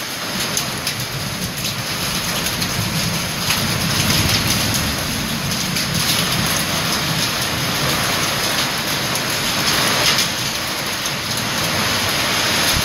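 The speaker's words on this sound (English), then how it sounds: "Yes, that is hail you hear." Nickel- to quarter-sized hail falls on a rural home place during a storm, a dense, steady pattering roar that stays loud and continuous throughout with no voices.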